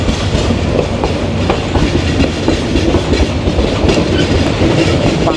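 The Paharika Express passenger train leaves Sylhet for Chittagong in Bangladesh, heard as a loud, steady, close rumble with rhythmic clickety-clack of wheels over rail joints throughout.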